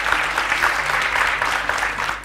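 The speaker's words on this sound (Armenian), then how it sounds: "Ծափահարությունները հնչում են" Quiz-show studio audience applauding as a topic is chosen, a close, dense burst of clapping holding steady for a couple of seconds before easing at the end.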